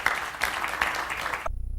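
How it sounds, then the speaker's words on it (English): An audience applauds at the close of a talk on Lakota relations and history, a brief burst of dense clapping that cuts off abruptly into near silence. "how about a round of applause for Ladonna?"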